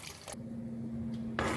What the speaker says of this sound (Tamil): இப்போ வந்து நான் புளி தண்ணி ஆட் பண்ணிக்கிறேன்.